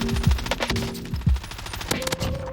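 Rapid bursts of automatic gunfire from Call of Duty: Warzone crackle loudly in quick succession, several volleys stacked over a short stretch at the Fortune's Keep overlook, with no talking.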